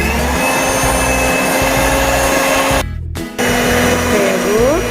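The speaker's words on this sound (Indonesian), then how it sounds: "Kita masukkan semua, lalu kita mixer." Electric hand mixer beating coconut cake batter made with coconut oil, a loud steady whirring drone close by, briefly cutting out near the end before starting again.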